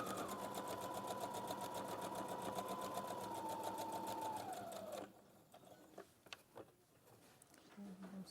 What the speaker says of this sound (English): So you sew across the top.